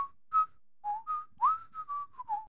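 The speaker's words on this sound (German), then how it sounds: "Und den Duke Nukem Song pfeifen." A person whistles the Duke Nukem song in short, clear, close melodic phrases with brief gaps between the notes, alone and without any talk.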